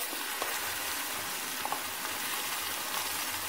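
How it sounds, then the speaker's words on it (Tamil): Ground masala paste fries with vegetables in a pan for Karaikudi kara kuzhambu, a soft continuous sizzle with occasional light stirring clicks, faint and steady throughout with no voices. "இப்போ நம்ம அரைச்சி வச்சுருக்க அந்த மசாலாவை போட்டுடலாம்"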